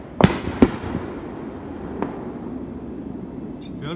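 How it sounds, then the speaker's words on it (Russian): Fourth of July fireworks go off beyond a forest, two sharp booming cracks followed by a fainter distant pop echoing through the trees against a quiet outdoor background. "Салют у нас в лесу, сквозь деревья все это можно увидеть."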